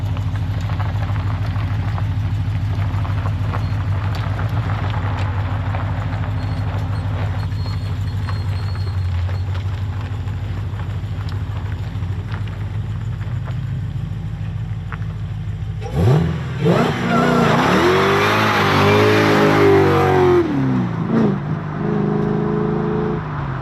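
A 1971 Plymouth Duster cruises with a steady low engine drone and road rumble for a long stretch, then opens up into a loud, rising acceleration roar with a gear change before easing off.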